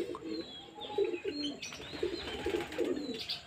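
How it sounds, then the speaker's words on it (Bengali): Pigeons coo in soft, repeated low bursts close by during a pigeon-flying session, several calls in an uneven rhythm with faint chirps and outdoor background above them; no one speaks. "দেখুন পায়রা, দেখুন কী সুন্দর চাল নিয়ে এনেছে, হু করে ওপরে চলে যাচ্ছে।"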